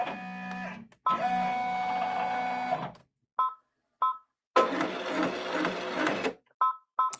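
An embroidery machine stitching alignment marks onto a quilt block: a loud, steady, buzzy whir of rapid needle strokes in long runs, broken by sudden stops and short chirping bursts, close up with no talking.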